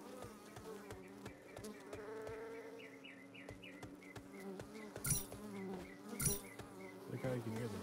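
Bees buzzing in the video game The Sandbox, heard from underwater: a continuous close droning hum with scattered soft clicks and two sharp bright bursts late on.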